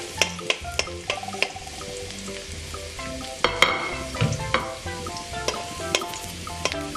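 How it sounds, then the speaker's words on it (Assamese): Garlic and chillies frying in hot oil until browned, a continuous close sizzle broken by repeated clinks and scrapes of a spoon stirring the pan, with no talking. "এইখিনি অকণমান ব্ৰাউন কালাৰ হোৱাকৈ ভাজি দিম"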